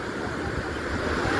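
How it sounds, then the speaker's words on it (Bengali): Rough sea surf roaring on Puri beach in the evening, a dense, steady wash of breaking waves filling the whole moment with low rumble and hiss, close and continuous with some wind buffeting. "সমুদ্রের উত্তাল ঢেউ, গর্জন"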